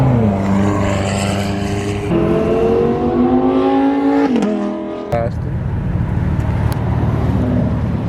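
A loud, raspy straight-piped BMW M4 F82 exhaust roars steadily and rises in pitch as the engine revs, then drops and drones on, heard close up from inside the car.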